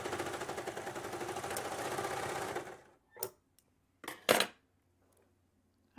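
A sewing machine stitches the gathered neckline of a faux cowl T-top, a close, rapid mechanical whir for about three seconds before stopping, followed by a few scattered clicks and knocks.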